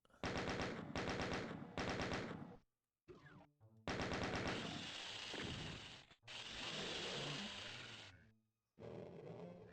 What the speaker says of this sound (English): We are going chain gun for this next section.